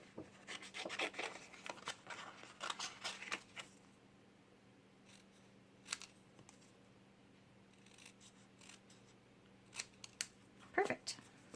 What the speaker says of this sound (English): And again, just freehand cutting that out.